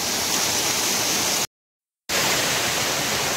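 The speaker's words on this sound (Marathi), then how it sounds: "तर बघा ह्यो असो मानगावचो धबधबा" Mangaon waterfall in Sindhudurg, Konkan, gives a steady, loud rushing roar of falling water that cuts out briefly in the middle and then returns at full strength.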